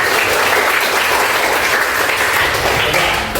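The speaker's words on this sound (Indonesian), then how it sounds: "Tepuk tangan dulu." A classroom of students applauds together during a lesson on the forms and functions of upakara offerings, a loud, steady wash of clapping that fills the room for a few seconds without talk.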